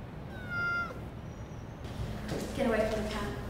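A cat meows twice, a short high cry early and a wavering meow near the end, against a low background rumble.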